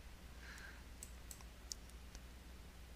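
Faint mouse clicks on a Windows 11 computer while pinning Settings to Start, a handful of light, crisp ticks spaced irregularly over a quiet hum.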